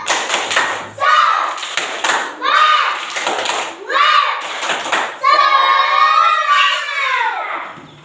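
A classroom group claps in rhythm for a spirit clap, with bursts of thudding claps punctuated by children's chanting voices and a long sung or shouted ending.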